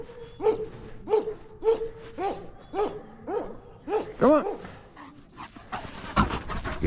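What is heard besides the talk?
dogs barking and panting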